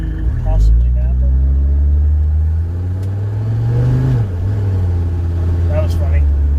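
A Mercedes-Benz W123 300TD with the OM617 five-cylinder turbo diesel pulls while driving, a loud, deep engine drone that climbs in pitch, dips briefly at a gear shift, then steadies again.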